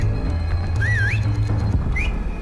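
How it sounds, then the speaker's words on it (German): Whistling in the Splinter Cell Pandora Tomorrow stealth game, used to lure enemies: a short rising-falling whistle and a brief second chirp over a steady low game hum, loud and close. "Pfeifen! Damit können wir die Feinde auf uns aufmerksam machen und sie in Fallen tappen lassen."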